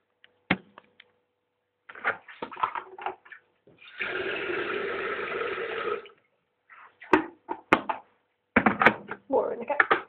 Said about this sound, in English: let's put some water in the kettle.